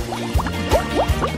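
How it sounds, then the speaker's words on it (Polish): Steaming hot water pouring and splashing into a vessel, with gurgling, rising bubbly tones repeating in a steady rhythm, close and clear. "Dodam dymiącą się wodę"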